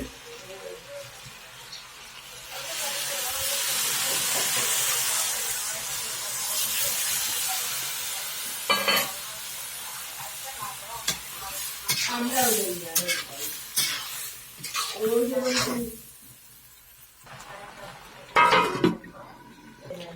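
Water poured into a hot pan for fish curry bursts into a loud, rushing hiss of steam that fades after several seconds. Scattered clinks and scrapes of a utensil against the pan follow.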